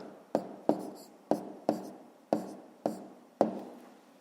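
A pen writes a math answer by hand on paper, seven sharp strokes in a steady rhythm, close and clear in a quiet room, with no speech.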